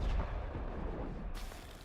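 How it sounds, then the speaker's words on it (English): A cannon firing in a video game: a heavy, booming blast with a low rumbling tail that fills the short stretch, loud and close, with no voices. "That's a cannon."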